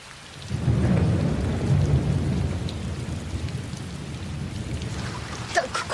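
Heavy rain pours steadily and close, a deep rolling rumble of thunder swelling early and fading, with sharper drips and splashes near the end; no talk.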